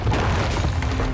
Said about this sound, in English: An explosion in one of your factories.